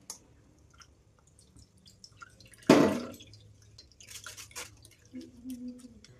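Squeezed orange juice strains through a sieve while preparing an orange cake. Quiet, sparse drips lead up to one louder wet splash, then scattered close drips and small liquid sounds follow in near silence.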